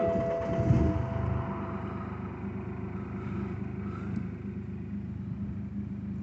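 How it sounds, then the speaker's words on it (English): A BMW 1 Series 1.5d diesel engine turns over and settles into a steady, low idling rumble, close by and continuous, with no voices. "Now we're going to start the car."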